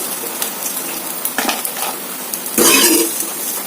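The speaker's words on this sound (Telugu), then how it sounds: "ఈ ప్లేట్లోకి అయితే ట్రాన్స్ఫర్ చేసేసుకోండి" Cooked food being moved from a pan onto a plate produces scattered scraping and clinking of a utensil against metal, with a brief louder clatter near the end and no talking.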